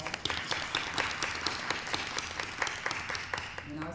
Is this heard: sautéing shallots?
no